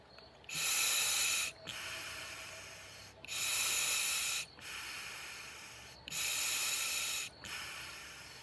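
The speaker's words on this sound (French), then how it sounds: "Je continue à faire 2 à 3 inspirations pour vérifier de manière normale que j'y respire correctement." A diver tests a scuba regulator with three slow inhalations, each a loud, rushing hiss of air lasting about a second, followed by a softer exhale hiss, in a steady breathe-in, breathe-out rhythm.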